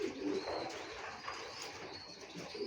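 Soft, low coos from a female racing pigeon repeat a few times, fairly faint against a quiet background.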